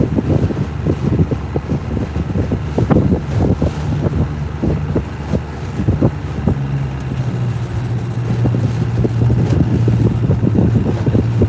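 Wind blowing on Lake Texoma from the southeast, a steady buffeting rush with repeated flapping gusts against the microphone and a low engine-like hum running underneath, with no voices.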